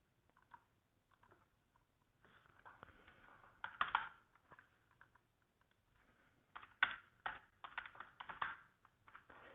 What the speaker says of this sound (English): So the user would key in, the company,